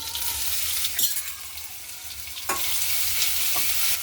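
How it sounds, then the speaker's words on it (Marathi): Cumin and garlic paste frying in hot oil where mustard seeds have already spluttered, a loud, steady, hissing sizzle broken by a few short stirring scrapes. "आता याच्यामध्ये जिरे आणि लसणची पेस्ट घालू"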